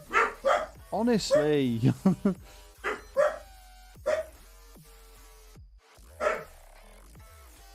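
A dog barks several times in quick bursts, loud and close, with yips and a whimper among the barks and someone talking over and between them.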